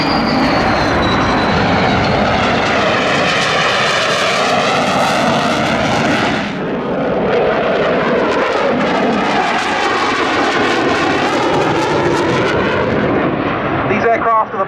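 A tiger-striped French Navy Dassault Rafale jet comes in to land at the Yeovilton Air Day airshow, its engines roaring loud and steady with a shifting whine, while a commentator talks over the noise.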